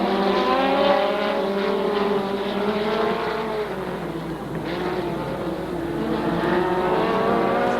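USAC midget race cars at Raven Raceway in 1987, engines droning and whining loudly as they circle the track together, the pitch rising and falling with no break.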